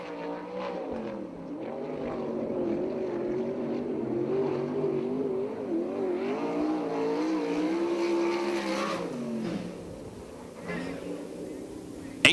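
A USAC/CRA sprint car screams around Perris Auto Speedway on a qualifying lap at night, its engine note rising and falling through the corners as it passes, loud and sustained, then fading near the end.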